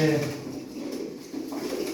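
Pigeons kept for sale coo in a loft, a short low throaty call near the start followed by quieter murmuring coos against faint room noise.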